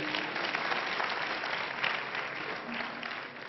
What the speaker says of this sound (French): Applaudissons pour nous.